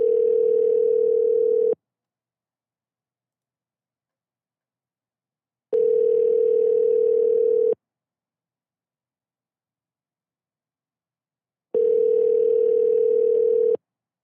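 A telephone ringback tone sounds while an outgoing call waits to be answered: a steady tone in long two-second bursts, three times, with about four seconds of silence between them. The tone is clear and close.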